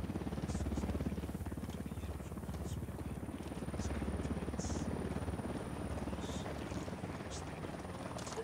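A helicopter in the video game Ghost Recon Wildlands flies close by, its rotor a loud, continuous rhythmic chop and drone that stays steady throughout.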